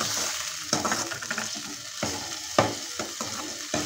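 Oil sizzles and crackles steadily as a spice tempering fries in a hot pan for moong and masoor dal, with several sharp bursts of spitting as water hits it, close and fairly quiet.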